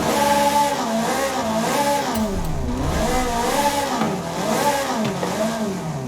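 A stock-engined Koenigsegg CCGT in a Forza racing game revs loudly and repeatedly, its pitch climbing and falling in smooth sweeps with a rich, harmonic engine note and no talking.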